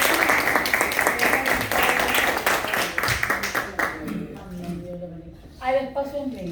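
An audience at a national church congress claps to welcome a speaker, loud and dense at first, then thinning out as voices and a sustained tonal sound take over.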